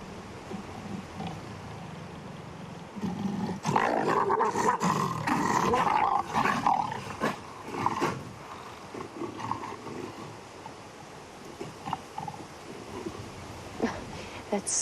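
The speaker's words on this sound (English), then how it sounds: "They're still growling at each other." Lions growl and roar at each other during an evening safari drive, deep rumbling snarls that swell into loud, ragged bursts, then fade to low intermittent growls, with a person talking quietly at times.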